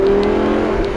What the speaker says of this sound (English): One more downshift before we have to stop for petrol. Listen to this, guys.